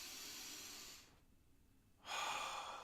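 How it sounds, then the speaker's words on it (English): A deep breath drawn in during a pranayama breathing exercise, a steady airy inhale that goes quiet for about a second while held, then a stronger rush of air on release. "Take a nice deep breath in."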